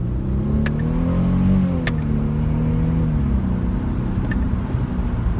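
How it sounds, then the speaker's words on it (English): Inside a 2011 Mercedes E350 Cabriolet pulling away from a stop sign, the engine hums and rises steadily through a gear change, smooth and moderately loud with road noise beneath. "now we're at our first stop sign, which means acceleration"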